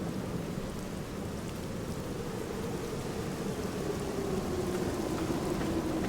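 Steady rain with low rumbling thunder in the horror adventure game The Black Mirror, a constant wash of falling water with a faint tonal drone underneath.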